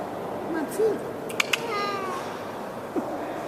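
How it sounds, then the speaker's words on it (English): A savannah cat gives a few short, soft meows amid faint background noise and a couple of sharp clicks, with no talking over it. "I thought I heard him meow"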